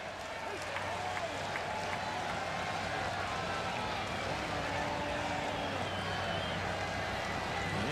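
Steady crowd murmur and cheering from a large crowd of about 36,000 at a rain-soaked baseball stadium, the Cubs at the Cincinnati Reds, a continuous wash of noise under a play-by-play voice.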